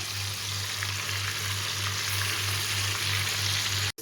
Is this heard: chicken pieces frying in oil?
yes